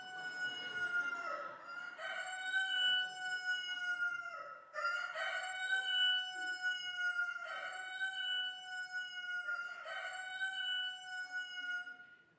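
Rooster crowing repeatedly in a played recording, four long harmonic crows in steady succession, loud and close, with no talk over them.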